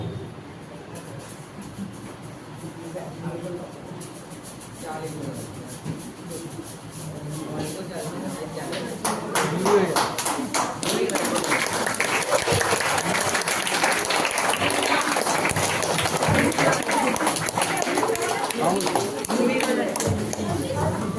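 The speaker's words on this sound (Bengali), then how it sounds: "হাততালি জোরে হাততালি" Loud, dense applause from an audience at a magic show, starting softer and swelling to a sustained roar midway, with voices talking over it throughout.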